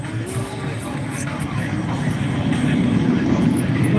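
An aircraft performing aileron rolls at the Arctic Thunder air show in Anchorage, Alaska, gives a loud, steady distant engine roar that swells slightly, with faint crowd sounds in the open air.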